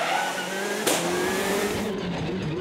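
A Subaru Impreza World Rally car races along a rally stage at the Donegal International Rally, its engine droning steadily with a rising whine and a brief sharp blip partway through, heard at moderate distance.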